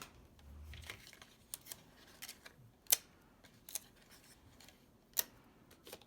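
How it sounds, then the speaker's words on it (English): Ribbon scissors snip through ribbon while making a handmade greeting card, a few quiet, sharp clicks scattered at irregular intervals over a soft, near-silent background with no voices. "I'll cut it with my ribbon scissors"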